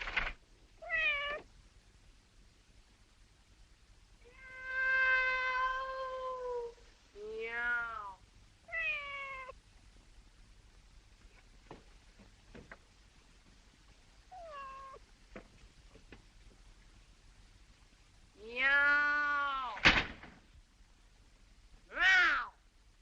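A voice imitates a cat, giving several drawn-out meows spaced across a quiet stretch, with a long wavering call near the end and a short sharp cry at the close.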